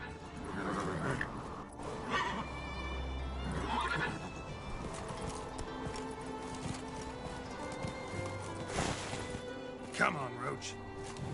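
Roach, the horse in The Witcher 3: Wild Hunt, gives several whinnies amid hoofbeats and game sound, close and clear, with a voice speaking at times.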